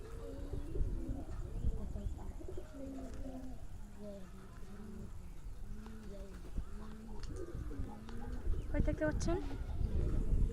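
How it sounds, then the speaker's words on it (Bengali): Bombay pigeons cooing at a pigeon farm, a repeated low throaty coo in a steady rhythmic series, fairly close but quiet beneath someone talking and general background noise. "এইটা হচ্ছে নোয়ার কবুতর বোম্বাই।"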